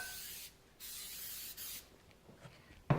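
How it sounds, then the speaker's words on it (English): Two short hissing sprays of cooking spray onto pie plates, one after the other, followed by quieter rustling and a sharp clatter at the end. "we're going to take our pie plates here, and we're actually going to spray them just lightly"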